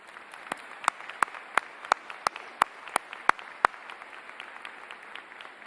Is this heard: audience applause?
yes